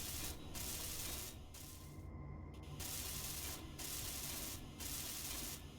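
A welding tool in Space Engineers fuses blocks together with a loud continuous grinding hiss, broken by several brief gaps into repeated bursts.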